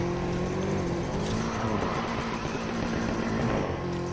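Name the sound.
car drifting in a video game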